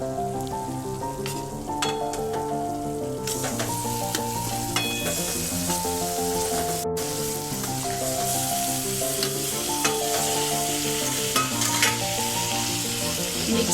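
Masala sizzling steadily in oil while being stirred for a home-style Marathi fish curry, a continuous close frying hiss with stirring scrapes, running under louder background music.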